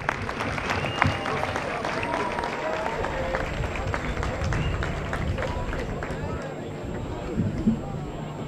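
Outdoor crowd of motorcycle-event attendees applauding a band, scattered rhythmic clapping mixed with crowd babble and talk, moderately close.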